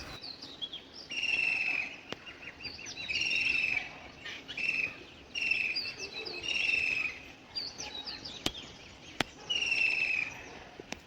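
From a balcony during days of steady rain, a bird gives repeated bursts of bright chirping calls, about six phrases with short gaps, fairly close, over a soft background hiss and no talking.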